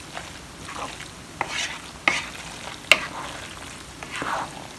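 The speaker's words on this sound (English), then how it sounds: "And we're gonna stir this up." A spoon stirs a cheesy pizza pasta sauce seasoned with smoked paprika in a pan, soft scraping strokes and a few sharper clinks over a low sizzle.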